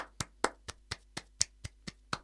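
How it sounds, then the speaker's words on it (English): Sharp, separate hand claps ring out in a quiet room to cheer for George during a live chat show, about nine of them in a quick, slightly uneven rhythm, close and isolated with no voices. "give George a round of applause"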